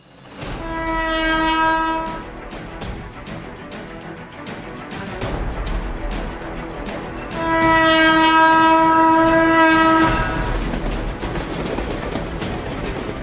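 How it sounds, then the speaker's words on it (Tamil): Chennai suburban electric AC train horn sounding twice as a loud, steady multi-tone blast, the first short and the second longer, over continuous rumbling rail noise of the moving train. "சென்னையில் குழு குழு ஏசி வசதியுடன் சேவையை வழங்கி வருகிறது புறநகர் ரயில்"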